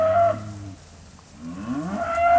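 Cattle at a livestock auction sale in Georgia, with two long, low moos close by, one at the start and one building toward the end, separated by a quiet gap with no talk.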